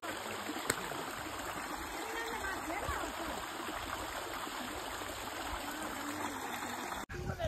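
Steady rushing water from Bhadawana waterfall near Gwalior fills the scene, a continuous broad hiss with splashing texture throughout.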